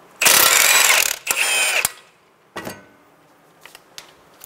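Wrench and 19 mm socket loosening the strut knuckle bolt on a 2012-2016 Subaru Impreza front suspension: two loud ratcheting bursts followed by a few fainter clicks and clanks, close up with no talking.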